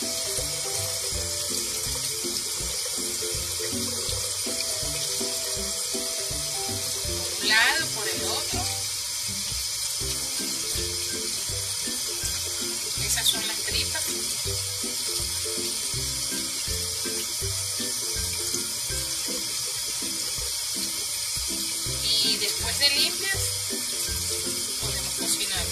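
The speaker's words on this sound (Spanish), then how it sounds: "Cada pepitona debe lavarse una a una aquí en agüita." Pepitona clams being washed one by one by hand in water, with steady running or sloshing water throughout and a few brief splashes or clinks, while a voice talks over it.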